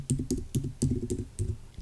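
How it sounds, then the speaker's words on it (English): Keystrokes on a computer keyboard while entering a search into a spreadsheet program, about seven quick clustered taps in an uneven rhythm, close and clear with no talking. "I'll type add numbers here"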